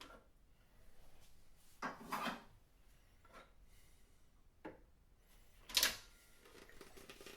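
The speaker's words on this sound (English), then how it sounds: "Take the lid off." A KitchenAid food processor lid being lifted off, giving a few short plastic clicks and knocks, with one sharper clack near the end, heard alone at close range.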